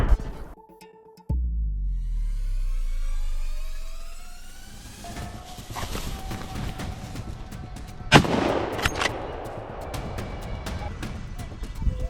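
Loud rifle gunshots on a wild boar hunt in open farmland, a sudden blast followed by a long rolling echo, with another sharp report later and vehicle-like hum beneath.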